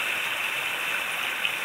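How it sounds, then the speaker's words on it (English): Steady, close trickle of water from a pump-fed black hose pouring down a spillway into a lined backyard pond built as a disappearing waterfall, a constant splashing hiss with no other sounds. "And you have water running into there."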